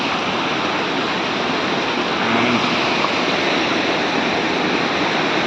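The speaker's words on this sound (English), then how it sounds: "waterfalls in Meghalaya are aplenty." Waterfall near Pynter village in Meghalaya, a constant broadband rushing roar of falling water, close and steady, with a brief spoken word barely audible.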